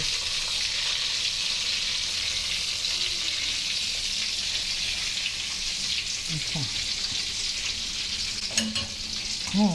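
Shrimp and a fried egg crackle in hot oil, a steady dense sizzle running throughout with a few louder pops and utensil scrapes near the end.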